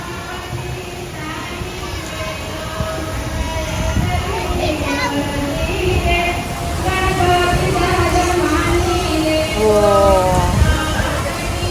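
Dense, steady rainfall pouring down, with people talking loudly over it throughout.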